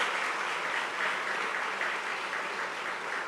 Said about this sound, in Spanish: give a great round of applause to Christ?